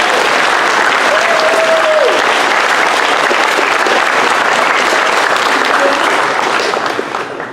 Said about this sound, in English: I think they deserve a round of applause for all of their efforts